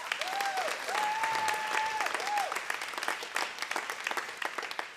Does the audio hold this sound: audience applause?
yes